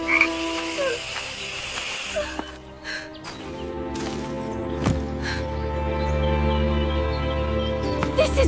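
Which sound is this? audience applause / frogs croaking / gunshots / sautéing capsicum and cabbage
frogs croaking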